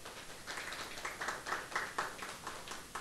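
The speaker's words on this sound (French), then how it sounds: "qui méritait pour nous un petit applaudissement" Scattered audience applause at a conference-debate on industrializing Haiti, a moderate patter of claps from a seated crowd that swells and fades over a few seconds.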